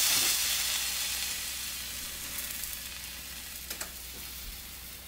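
A store-bought tortilla sizzles on a very hot pan, a steady bright frying hiss that starts loud and slowly eases, with a few small pops and crackles, close and with no talking.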